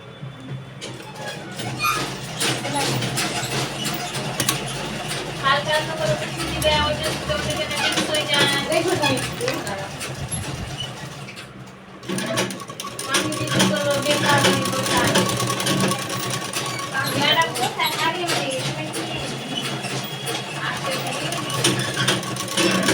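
Sewing machine stitching two pieces of fabric together to join a border, a rapid mechanical chatter running in bursts with a brief pause midway, under a person's talking.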